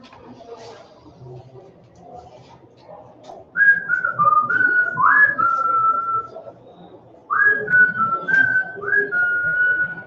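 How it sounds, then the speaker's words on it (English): A person whistles two bright melodic phrases into a livestream microphone, each phrase a run of short sliding notes. Quiet background murmur fills the gaps before and between the phrases. "That was my whistle."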